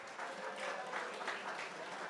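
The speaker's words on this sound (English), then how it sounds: "Give them all a huge round of applause." Audience at an art auction applauding steadily throughout, a dense, even patter of clapping from a room full of people with no voices over it.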